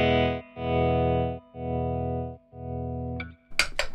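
A distorted Gibson electric guitar chord through a Boss TR-2 tremolo pedal at its slowest setting pulses on and off in a slow, regular rhythm, four swells of volume, then scratchy picking noises at the end.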